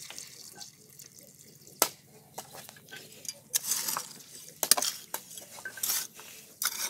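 Soil being mixed with water by hand to make a clay pot stove, heard as wet scraping, slaps and dripping in irregular bursts, fairly close and moderately loud.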